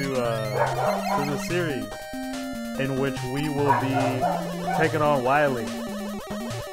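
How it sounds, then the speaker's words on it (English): A dog barks and yips repeatedly in the background of a room while someone talks over game music from Mega Man 5. "Excuse my dog in the background."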